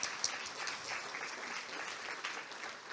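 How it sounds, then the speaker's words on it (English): An audience applauds for Erica Goldstein as she comes up to give her talk at an academic conference, a steady wash of many hands clapping at moderate volume, without speech over it. "Let's give Erica a round of applause as she makes her way to the talk"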